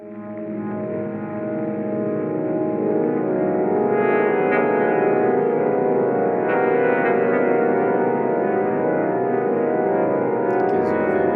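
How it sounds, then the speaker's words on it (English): Thick, atmospheric layered synthesizer notes in the style of a Terminator film score, sustained together as one dense chord that swells slightly midway and holds steady, loud and close with no talking. "So you can see it's just these sustained notes and a synthesizer sound."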